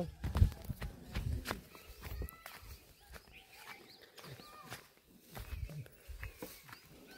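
Oxen moving about a field while it is being ploughed and sown with maize, their hooves landing in irregular thuds and scuffs, fairly close, with brief louder steps early on.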